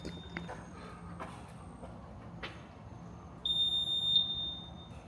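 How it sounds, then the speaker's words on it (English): A building's alarm panel beeps with a thin, high electronic tone, softly at first and then as a louder sustained beep near the end, over quiet room noise and a few light knocks. "there's the beeping"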